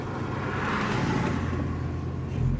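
The engine of a bagged mini truck revs steadily at close range, with a continuous droning growl that swells slightly near the end and no talking over it.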